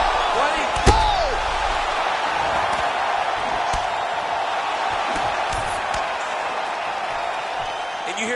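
A big arena crowd in the UFC 4 fighting video game roars and reacts to punches landing, with a heavy impact thud near the start and a steady, loud crowd din that continues throughout.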